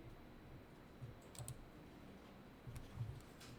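A computer mouse clicks quietly a few times, in pairs and singles, while accounting software is used for payroll tax forms, in a quiet room with no talking.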